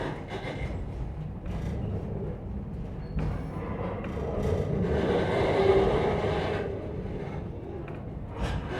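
A steam-powered passenger train on the Strasburg Railroad in Lancaster County rolls past with a steady rumble that swells to a peak midway and then eases off, with faint clanking and hiss on the rails.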